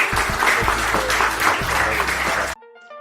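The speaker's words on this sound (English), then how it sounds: "can we please give a round of applause for Keith Rabois?" Applause from an audience for Keith Rabois at the close of an interview, dense and steady for about two and a half seconds, then cutting off abruptly into near silence.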